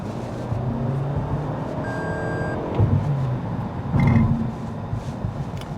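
A 2024 Toyota Camry Hybrid drives and accelerates along a short stretch of road, giving a steady, close rumble of road and drivetrain noise with a few brief tonal beeps and a louder surge near the end, with no talking.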